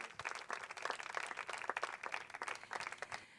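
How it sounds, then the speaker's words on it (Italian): An audience at an evening fashion show in Sarroch applauds, a dense, steady patter of many hands clapping that carries on for a few seconds. "un grande applauso per Bianca"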